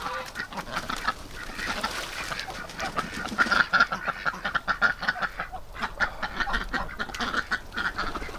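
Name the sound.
ducks quacking and splashing water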